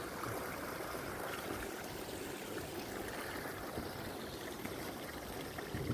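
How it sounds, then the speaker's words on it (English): Water seeps and trickles steadily at Thorns Lock on the Calder and Hebble Navigation canal, a constant broadband rush with no talking. "There's all the water seeping down there."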